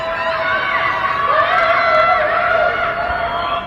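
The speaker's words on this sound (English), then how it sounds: "defying the lockdown by screaming from their apartment windows into the night" Many voices scream and wail from apartment windows into the night during a lockdown, a dense, steady, echoing chorus of distant shouting with no break.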